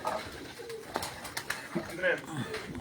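A prized pigeon breed kept on a rooftop in Punjab coos softly in short repeated bursts, close by, while someone talks over them.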